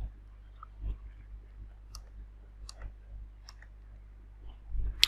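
Sparse, light mouse clicks tap at irregular intervals while a setup wizard is worked through, faint and close over a low steady hum.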